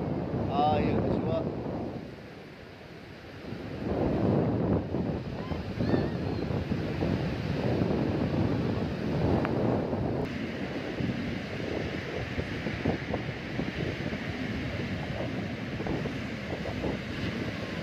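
Strong wind roars across the microphone on Saidia beach in late September while waves rush and break steadily in the background, a continuous loud blustery wash with no clear talk.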